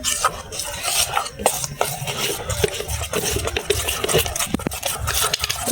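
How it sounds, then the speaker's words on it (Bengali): Pitha batter of rice flour, salt and water is mixed by hand in a bowl, giving close, irregular wet squelching and scraping strokes that continue steadily with no talking. "গুলে নেব, গোলাটা গুলে নেব।"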